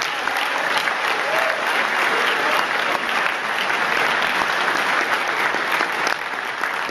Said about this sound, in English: so a big round of applause for them again